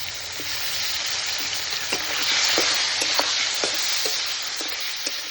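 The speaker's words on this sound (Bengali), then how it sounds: "আলুগুলো ভেজে নেব।" Potatoes fry steadily in hot oil for a Bengali cauliflower and fish curry, giving a dense, continuous sizzle with scattered small pops and occasional stirring clicks, close and fairly loud, with no talking.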